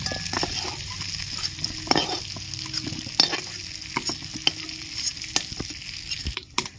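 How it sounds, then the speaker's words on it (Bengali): Chunks of young jackfruit sizzle steadily in hot oil while a spoon or ladle scrapes and clinks against the pan as they are lifted out, close and clear. "এঁচড়গুলো আমার ভাজা হয়ে গেছে, এবার আমি তুলে নিচ্ছি।"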